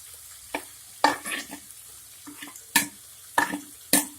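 Metal spatula scraping and stirring masala in a pan with bursts of sizzling, irregular strokes close by, no voices.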